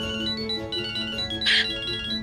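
A phone ringtone plays a repeating electronic melody of bright tones, steady and moderately loud, with a brief burst of noise partway through.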